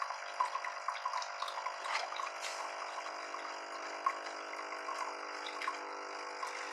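A Tassimo Vivy T12 pod coffee machine runs a hot-water cleaning cycle, giving a faint steady pump hum with trickling, dripping water and small rattles, no talk.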